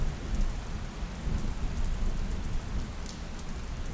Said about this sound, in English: until eventually the rain slowly began to fade away.